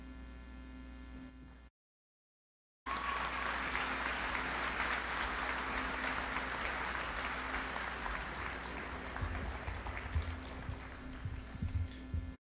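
Sustained applause from a high school commencement audience, a dense steady wash of clapping rising after a brief silence and holding for about ten seconds over a low mains hum.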